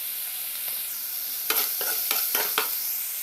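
Second-press coconut milk poured into vegetables cooking in a pan, with a steady sizzle and a few stirring scrapes clustered together.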